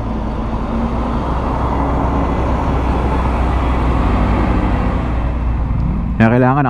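Quarry trucks hauling sand rumble past on a dusty road near Legazpi, Albay, a loud steady roar of heavy traffic heard from a riding motorcycle, with a voice cutting in at the end.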